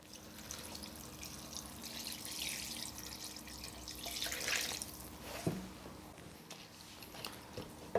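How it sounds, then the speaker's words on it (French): Water is poured into a cooking pot over fish bones and white wine for a fish stock, a faint splashing and trickling flow with scattered drips and small clunks, no talk. "Vous pouvez maintenant rajouter l'eau"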